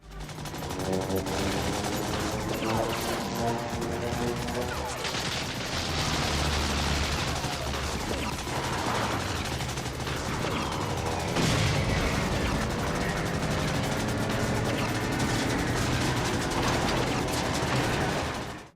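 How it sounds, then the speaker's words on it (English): Dense, continuous World War II gunfire and booming blasts fill the whole stretch, layered with droning aircraft engines and a chaotic battle roar that never lets up. "the skies were filled with a different kind of noise: the explosions, gunfire"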